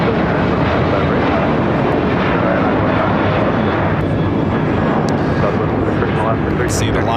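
Jet airliner taking off at Los Angeles International Airport, a loud, steady broadband engine roar filling the whole stretch, with faint radio-style chatter and talk underneath.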